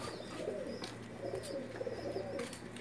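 A pigeon coos softly in repeated low, burbling phrases against a steady background hum, with faint chirps above it.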